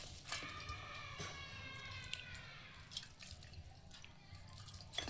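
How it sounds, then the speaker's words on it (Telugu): Water poured into spinach pakoda batter in a bowl and mixed by hand, giving soft wet dripping and squelching sounds that repeat steadily for several seconds at close range with no talk. "నేను కొంచెం నీళ్ళు వేసి కలుపుతాను."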